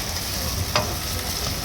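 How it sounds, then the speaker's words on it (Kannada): Fish frying on a flat tava in a hygienic fry setup, giving a steady loud sizzle throughout with one brief sharper crackle, no voices. "ಈ ಥರ ತುಂಬ ಚೆನ್ನಾಗಿ ಫ್ರೈ ಮಾಡಿ ಜನಕ್ಕೆ ಇಷ್ಟ ಆಗೋ ಥರ ಮಾಡ್ಕೊಡ್ತೀವಿ"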